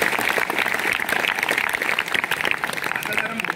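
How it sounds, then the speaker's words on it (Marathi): Audience applause at a motivational talk in a college hall, steady dense clapping from a crowd throughout, with some voices mixed in. "टाळ्या कशा वाजल्या पाहिजेत?"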